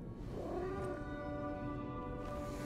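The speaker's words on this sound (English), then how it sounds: "Oh, I want to pet the cat!" A cat meows in the video game Lies of P, one drawn-out, wavering yowl that rises and falls over a constant background of tonal game music, fairly quiet and without any talk.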